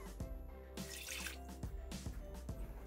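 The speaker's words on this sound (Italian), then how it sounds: "Iniziamo la ricetta mettendo all'interno del boccale l'acqua" Water poured into a Thermomix mixing bowl as the first step of a pan pizza dough, with a steady liquid trickle and a few distinct drips and splashes, close and fairly quiet, without any talk.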